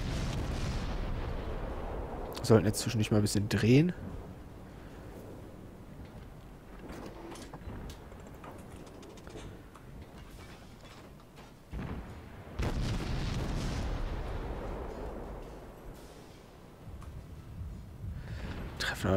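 Warship guns firing in World of Warships, heard as a few deep booms spaced through the stretch amid low rumbling game ambience, with someone speaking German over it.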